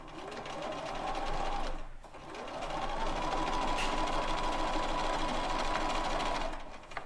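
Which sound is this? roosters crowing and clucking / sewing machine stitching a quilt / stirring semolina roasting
sewing machine stitching a quilt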